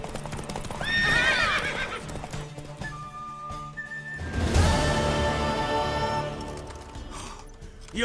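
In The Witcher 3: Wild Hunt, a horse whinnies loudly twice, near and clear, with hoofbeats clopping between the calls and a soft musical backdrop.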